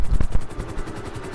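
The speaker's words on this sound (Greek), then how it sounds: "Να προσγειωθώ με ελικόπτερο, με τι να προσγειωθώ, να προσγειώσω το ελικόπτερο ή να πέσω." A helicopter in Grand Theft Auto V, a loud, rapid rhythmic rotor chop with a heavy thump near the start, steady pulses continuing throughout.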